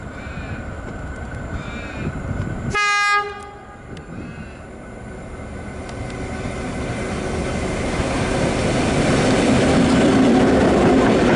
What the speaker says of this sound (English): classic GM10 on the AK cars passing through North Shore